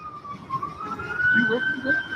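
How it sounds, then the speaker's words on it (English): An ambulance siren wails steadily in the background, a sustained rising tone heard at moderate distance beneath people talking. "that's not our siren, by the way, that's an ambulance."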